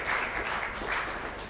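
Audience clapping at a billiards match, a steady moderately loud patter of many hands filling the moment with no voices.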